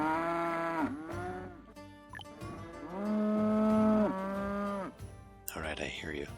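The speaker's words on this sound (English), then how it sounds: "Let's put cattle in first." Cattle moo several times in long, drawn-out calls in the video game Settlement Survival, close and loud, with a brief pause between them and a short chime at the end.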